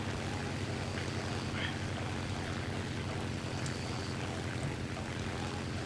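A propeller airplane in Plane Simulator 2017 touches down and rolls on the runway, a steady, close engine drone with constant noise held at one level throughout.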